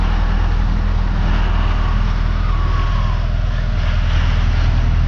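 A tractor engine idles and runs inside a chicken run, a continuous loud mechanical drone with a steady low throb from nearby.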